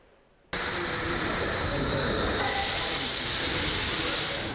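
A Kyiv metro train at Demiivska station bursts in abruptly after a moment of quiet, then holds a loud, steady roar and hiss of rolling wheels and rushing air.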